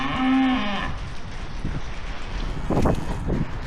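Cattle on a farm at feeding time give one loud, close, drawn-out moo at the start, followed by shuffling, rustling and wind buffeting the microphone, with a few fainter sounds from the herd near the end.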